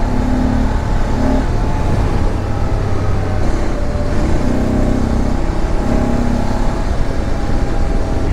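BMW F 850 GSA motorcycle riding along a highway service lane near Ghaziabad, its engine droning loud and steady with strong wind rush and a few shifts in pitch, no talking.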